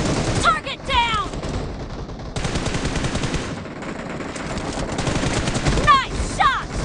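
Rapid bursts of automatic gunfire in a mobile battle-royale shooter game, loud and continuous with brief gaps, with a few short game voice callouts mixed in.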